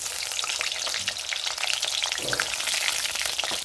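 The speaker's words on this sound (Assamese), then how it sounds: "মই প্ৰথমতে 3টা আলু ফ্ৰাই কৰি ল'ম।" Three potatoes fry in hot refined oil in a kadai, a dense, steady crackling sizzle that holds close and even throughout, with no voices.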